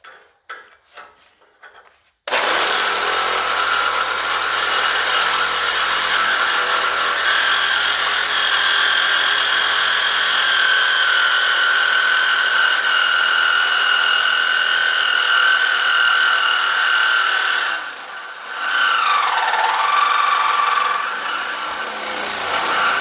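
A power saw starts abruptly and cuts continuously while working on a Model A Ford's brakes, a loud steady whine with grinding and rubbing, briefly dipping in pitch near the end before resuming.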